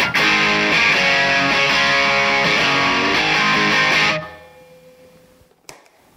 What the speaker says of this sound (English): Here's the amp by itself.